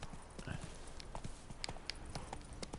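Roach, the horse in The Witcher 3, clip-clops along in a steady run of hoofbeats, crisp and close, with a few brighter clacks among the rhythmic footfalls.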